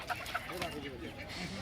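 Chickens clucking at a poultry market that sells ducks, chickens and birds, a few nearby clucks over low market murmur and faint voices.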